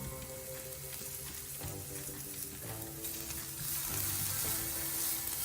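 Onions frying in a pan as part of a low-calorie pizza topping, a soft continuous sizzle with intermittent stirring scrapes and a slightly louder, brighter crackle toward the end, no one talking.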